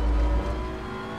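Racing car engine droning in a video game, with a Porsche among the cars, a loud steady motor tone that eases slightly after a brief louder swell.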